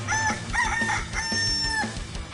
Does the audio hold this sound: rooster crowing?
yes